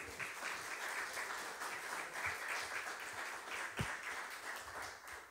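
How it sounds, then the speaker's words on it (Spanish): Congregation at a church service applauds, a fairly faint, steady patter of many hands clapping together, even throughout with no voices on top. "Un reverente aplauso al Señor y vamos a orar."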